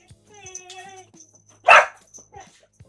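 A dog barks and yips indoors during a live stream, one loud close bark standing out among softer whines and yelps, with brief faint sounds around it.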